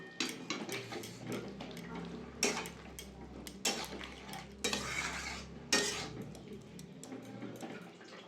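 Coriander leaves, sugar and flat beans are stirred together in a pan for a Bengali mustard-poppy bean dish, with scraping utensil strokes and clinks rising in bursts over a soft steady sizzle, no voice.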